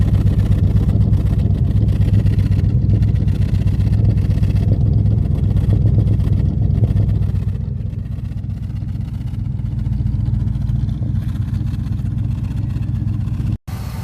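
A 1970 Oldsmobile Delta 88 engine idles in a grocery store parking lot, a loud, steady low rumble heard up close that eases slightly partway through, then ends with a brief cutoff near the finish.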